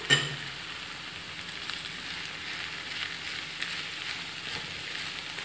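Onion, potato and zucchini fry in a pan with a steady, close sizzle, a brief clatter at the start and then an even crackling hiss throughout, no voices.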